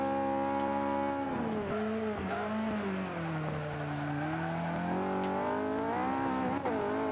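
A race car with a race transmission and full downforce setup, driven in the video game Forza 5, revs hard and holds high, its loud, continuous engine whine rising and falling in pitch as it works through turns.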